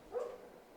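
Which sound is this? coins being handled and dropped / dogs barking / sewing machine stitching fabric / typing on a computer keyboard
dogs barking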